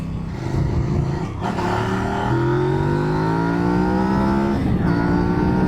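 A Kove 800X Rally motorcycle engine accelerating hard, revs climbing steadily through gear changes with brief dips between them, loud and close throughout, with no talk.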